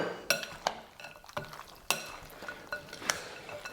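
A leek salad dressed with cider vinegar and garlic is stirred in a bowl, with a close series of irregular clinks and scrapes of a utensil against the dish and no talking.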